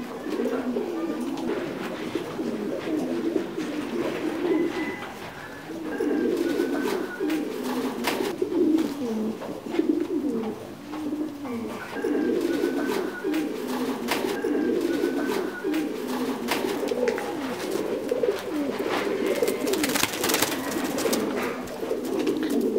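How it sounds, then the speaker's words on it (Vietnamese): Thai Titan meat pigeons at a breeding farm coo close by in repeated low, throaty rolling calls. Several birds overlap in a continuous, moderately loud chorus. "Bồ câu ở trại mình là hoàn toàn là bồ câu Titan Thái siêu thịt các bạn nhé."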